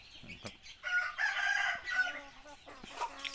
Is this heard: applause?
no